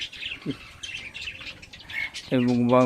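Pet budgerigars in a clean home cage chirping in quick, bright twitters, close and lively, ending in a louder, harsher squawking call.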